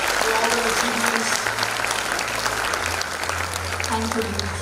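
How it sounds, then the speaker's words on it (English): A large audience at a prize distribution ceremony during an inclusivity conference applauds the winners, steady dense clapping throughout with a low background hum. "Could we all have a large round of applause for all the winners, for all their achievements?"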